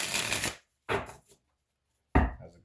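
A tarot card deck being shuffled by hand in three quick riffling bursts, close and crisp, separated by short silent pauses.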